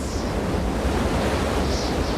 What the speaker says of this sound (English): we just happened to have struck a particularly severe Caribbean thunderstorm, with winds gusting to 60 knots and the seas running at 2 to 3 meters